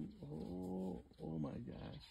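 A pack of wild dogs gives drawn-out, tonal whimpering whines and low growls in two bursts, heard close and fairly quiet against steady background hiss.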